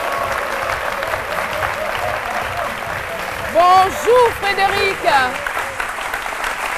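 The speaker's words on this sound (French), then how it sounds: "Je vous demande de l'applaudir." A TV studio audience on a French-language midday show applauds a guest with sustained clapping; partway through, a voice speaks over the applause before it carries on.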